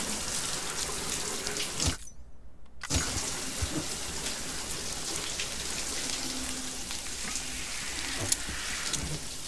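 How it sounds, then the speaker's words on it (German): A shower runs in the video game Death Stranding, a steady hiss of falling water that cuts out briefly, then resumes and continues evenly, fairly close and without speech. "Mal kurz gucken, ob ich jetzt sauberer werde, wenn ich jetzt nochmal dusche."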